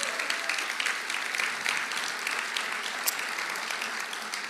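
An assembly at the opening service of a Christian summer gathering claps warmly and evenly for several seconds, a full, sustained applause with no voices standing out.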